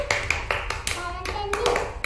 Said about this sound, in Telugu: క్లాప్స్ కొట్టండి యోగితకి.